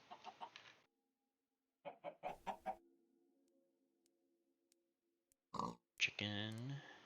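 Chickens cluck in the block-building game Minecraft during Sky Factory 3 breeding: several short clucking bursts come in quick groups with quiet gaps between, and someone speaks briefly near the end.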